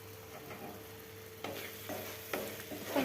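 Onion and tomato curry seasoned with garam masala fries softly in a pan. A low, steady sizzle is broken by a few louder scraping stirs near the end.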